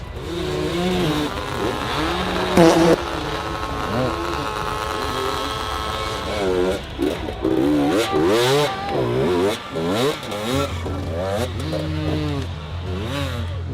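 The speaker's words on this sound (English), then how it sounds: "the wheels spinning uselessly, the engines roaring in desperation" Dirt bike engines rev hard and roar as their rear wheels spin uselessly while stuck on a steep hill climb, a loud continuous revving with rising and falling pitch, mixed with shouting voices in the background.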